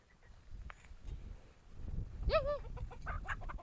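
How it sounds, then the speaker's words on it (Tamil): Roosters and hens in a flock of about fifty to sixty, heard during a family trip to Rameswaram, give a short crowing call midway over a low outdoor rumble of background noise. "ஒரு 50-60 சேவல் கோழி இருக்குங்க"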